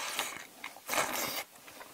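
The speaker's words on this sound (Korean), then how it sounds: "야채가 많아가지고 씹는데 좀 천천히 씹고 있어." Someone slowly chews a mouthful of jajangmyeon noodles heavy with vegetables, with soft wet bites and crunches close to the mic and a louder burst of chewing midway, no talking.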